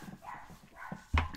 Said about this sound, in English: sorry if you guys hear the dogs barking